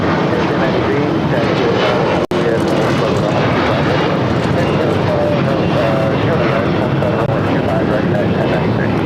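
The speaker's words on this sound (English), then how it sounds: "Delta A350 heading to Atlanta, flight 782, heading down to 25 right" Delta Airbus A350 jet airliner heading down to runway 25 right at LAX, a loud, steady broadband engine roar filling the whole stretch, with a single sharp click partway through and voices talking over it.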